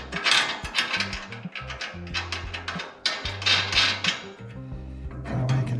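Metallic clicks and ratcheting from fastening a nut onto a bolt on an ATV attachment, in quick irregular bursts with short pauses, close and fairly loud, with no talking.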